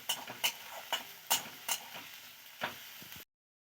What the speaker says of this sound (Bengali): ভালো করে ভেজে নেব জিরে টমেটো আর লঙ্কাকে একসঙ্গে